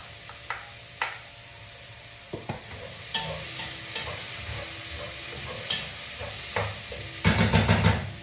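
Meat fries in a pan with celery, a soft steady sizzle punctuated by scattered scrapes and clacks of a utensil stirring, building to a louder burst of frying near the end.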